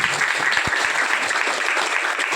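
An audience claps in a dense, sustained round of applause at an Adivasi trust event with songs, loud and continuous for the whole stretch.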